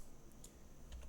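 Quick light taps on a computer keyboard while working in Blender 3D, a few faint presses in a short quiet burst.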